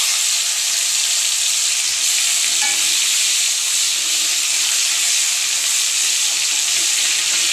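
Tomato dropped into hot oil with chopped garlic, dried red chilli and nigella seeds gives a loud, steady sizzle with a constant hiss and no pauses, close up, and no one speaking.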